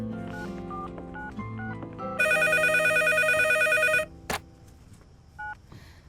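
A telephone being dialed for a call: a run of distinct keypad tones beeps in sequence, then a long steady ringback-style tone sounds before a short click and one more faint beep, all close and clear without talk.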